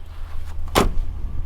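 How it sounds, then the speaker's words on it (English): A Volvo 940 car door slams shut once, a sharp, solid thud close by that cuts through a low steady background rumble, with no voices. "Typical Volvo door shutting sound."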